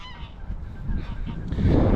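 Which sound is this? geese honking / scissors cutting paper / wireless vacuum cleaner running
geese honking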